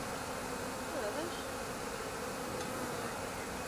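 A honeybee swarm clustered on a shrub gives a steady, close insect drone that holds evenly throughout with no voices.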